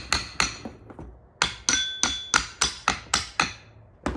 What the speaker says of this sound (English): if you have a hammer or something like that, you just want to start giving it a couple of taps around.